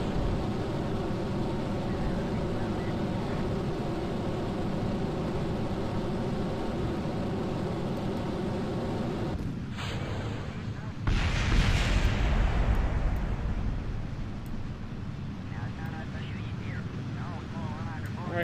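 A rocket launches in Kerbal Space Program: a dense, roaring engine rumble runs steadily, dips briefly, then surges into a louder, broader blast, with a voice talking over the roar.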